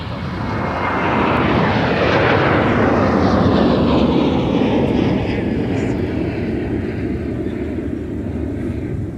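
A Sun Country airliner's jet engines roar loudly and steadily at MSP airport, swelling as the aircraft passes close by and then slowly fading into the distance.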